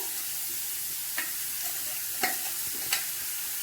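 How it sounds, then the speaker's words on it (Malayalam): Banana blossom thoran cooking in oil in a pan, stirred with a spoon or spatula that gives several distinct scrapes and taps over a soft, continuous sizzle. "ഇതിനെ കുറച്ച് ഇളക്കി കൊടുത്ത് എണ്ണ പിടിപ്പിച്ചിട്ടുണ്ട്"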